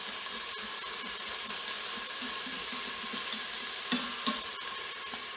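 Celery and onion cooking in a pot for smothered turkey necks give off a steady, close sizzle, with occasional stirring scrapes and soft knocks throughout and no talking.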